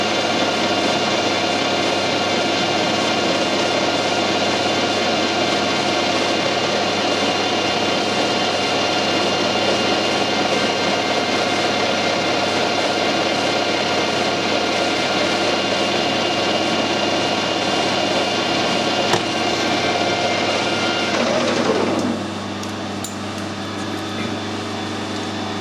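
A lathe takes a fine cut in hard steel with a carbide tool, a loud, steady, tonal whine and hiss running continuously, then the pitch slides downward and the sound drops off as the cut ends.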